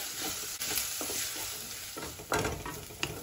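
Onion, ginger and garlic frying on medium flame for misal, a continuous close sizzle broken by irregular spoon scrapes and stirring clatter against the pan.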